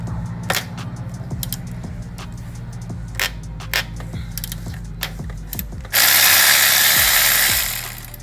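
A tool works on an alternator bolt of a 2018 Toyota Camry with quick ratcheting clicks and taps, then a loud burst of power-tool whirring near the end, close up with no talk.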